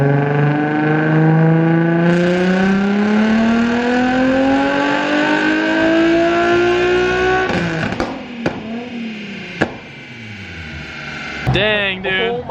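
A Nissan 350Z on nitrous revs hard in one long, rising pull toward redline, then cuts off into a few sharp pops and a lower idle, with a brief blip near the end. The car is loud and close.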